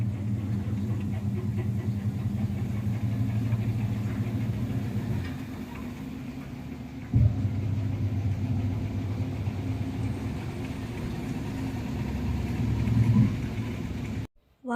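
A Godrej top-load fully automatic washing machine on its spin cycle gives a steady low rumbling drone that holds for about fourteen seconds, with a brief dip and one short thump partway through before it cuts off.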